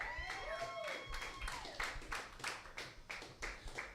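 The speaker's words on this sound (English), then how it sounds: "We're just applauding for him because he's a wonderful man." Audience applause at a live comedy festival show, a steady wash of clapping with sharp hand claps running throughout the clip, close and moderately loud, with voices mixed in.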